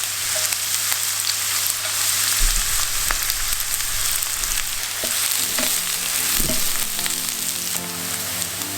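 Onion frying in hot oil in a pan, a steady close sizzle running throughout with occasional stirring scrapes and clinks, no talking.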